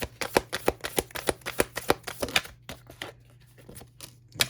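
Playing cards shuffled and drawn for a tarot reading, a close, rapid series of crisp riffling flicks for about two and a half seconds, then sparser soft card snaps and slides, with no talking.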